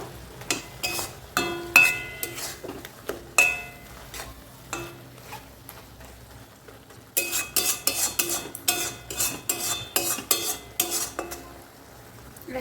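A metal spoon mixes egg curry with garam masala in a pan, bursts of scraping and clinking strokes separated by short pauses over a faint sizzle, close and clear with no talking.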